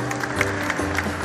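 An audience at a youth health-protocol pageant event claps in a brief, even burst of applause, with a low hum and crowd noise beneath.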